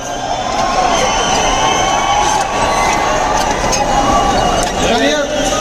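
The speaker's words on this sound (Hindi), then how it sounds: "एक बार जोरदार तालियों के साथ स्वागत कीजिए खान सर का" A large crowd at an entrepreneurship event welcoming Khan Sir with loud, continuous cheering and shouting over clapping, a steady roar with voices mixed in.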